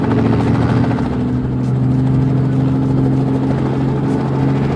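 A toy helicopter taking off with a loud, continuous buzzing whir and steady tones, close and without talking.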